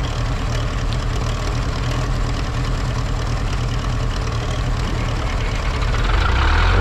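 Zetor 7045 tractor diesel engine running steadily at idle after a cold start, a loud, continuous low rumble with an even knocking pulse and no talk over it.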